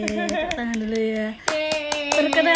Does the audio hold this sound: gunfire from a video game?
no